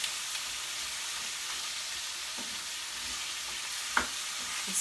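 Tomato, cumin and chipotle sizzle steadily in a hot pan while a utensil stirs, with a few soft scrapes and clinks over the constant close frying hiss.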